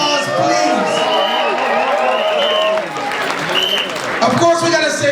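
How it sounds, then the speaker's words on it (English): Crowd at a sound clash anniversary event in a casino venue, a loud wash of cheering, whoops and clapping with shouting voices rising and falling over it. "Give yourself a round of applause, please."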